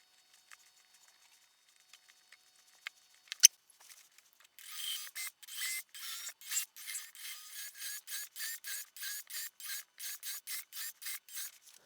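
A drill bit bores into softwood pine, giving a steady run of short, evenly spaced rasping bursts after a few scattered clicks and taps; close, fairly quiet and without talk.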